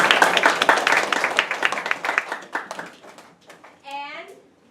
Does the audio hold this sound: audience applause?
yes